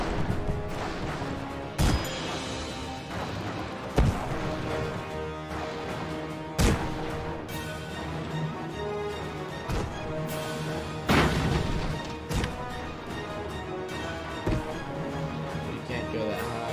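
Airship guns firing in Airships: Conquer the Skies, scattered heavy booms and crashes at irregular intervals over a continuous busy game backdrop with music-like tones, some talk mixed in.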